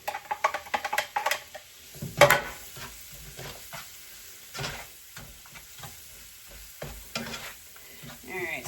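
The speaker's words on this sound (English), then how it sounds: "I'm gonna let the onions saute in this for just a few minutes before I start to add the rest of the ingredients" Onions sautéing with turmeric in a pan make a soft continuous sizzle, with a spoon scraping and stirring in quick bursts at the start and occasional clinks, close by and without talk.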